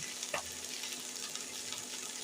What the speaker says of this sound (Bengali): এটা সুন্দর করে আমি ভেজে নিব ভর্তার জন্য।